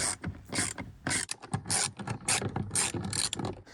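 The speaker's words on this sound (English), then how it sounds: "now I'm working in these 3 10mm bolts, just making sure those are nice and snug." Ratchet driving 10mm bolts on a Nissan door panel during a speaker replacement, with quick repeated clicking strokes in uneven bursts, close and clear with no talking.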